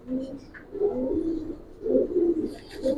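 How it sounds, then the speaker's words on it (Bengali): A very large pigeon coos in repeated soft, throaty phrases, close and clear, with short pauses between bursts and faint chirps behind. "খুব বিগ সাইজের একটা কবুতর"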